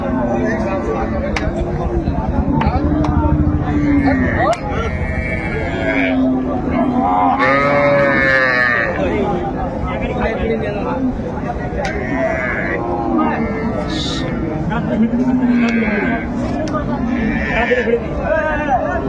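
A bull calf and other cattle at a busy rural livestock market in Dinajpur, with occasional moos rising over constant crowd chatter and nearby voices haggling.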